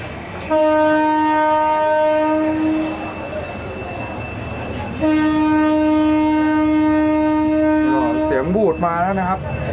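The Yangon Circular Train in Myanmar rumbles steadily at close range while its horn sounds two long, sustained blasts, with a warbling tone near the end.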